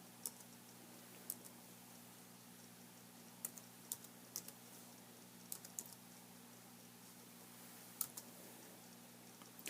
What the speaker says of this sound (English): I'm going to type in Christmas